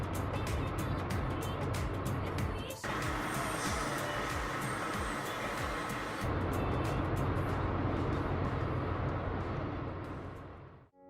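A car is driven along a road, its steady engine and road rumble running loud and continuous throughout, with a brief dip near the start and fading out at the end.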